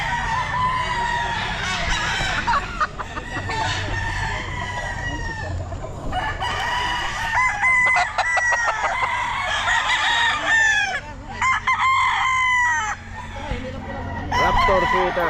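Raptor Sweater gamefowl roosters, about ten months old, crowing repeatedly and loudly at a pet market, with overlapping crows and clucks from several birds and someone talking nearby.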